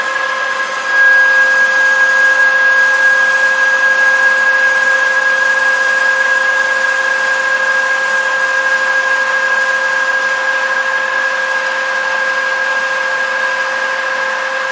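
A machine faces off the end of a metal part for a Cub Cadet 1650 four-wheel-drive build, giving a loud, steady high whine with clear sustained tones that holds unbroken for the whole stretch without talk.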